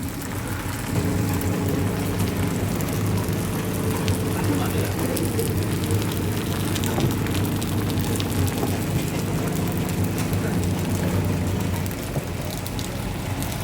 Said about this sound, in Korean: 오늘 대구에 비가 옵니다 주적주적 비가 내리고 있어요